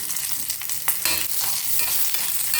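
Garlic and ginger sauté in a pan for a mint chutney, giving a steady close sizzle with a few stirring scrapes. No one speaks.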